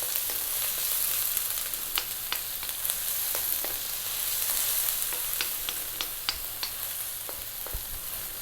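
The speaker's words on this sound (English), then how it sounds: "We're now going to drop in the onion. And we're on fairly high heat, as you can hear." Loud, steady sizzling of onions frying in a pan on fairly high heat, with occasional crackles and pops, continuous and close, no talking.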